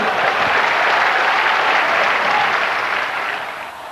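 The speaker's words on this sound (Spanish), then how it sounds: "Denle un aplauso al Señor." A church congregation applauds during a worship service, a thick, continuous roar of many hands clapping together that holds strong and then tapers off slightly at the end.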